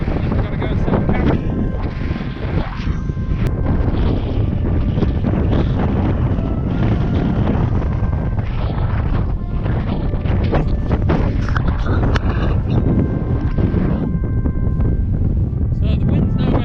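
Strong, constant gusts of wind blow across an exposed mountain ridge on Pen y Fan, roaring loudly and buffeting the microphone for the whole stretch. No speech is heard.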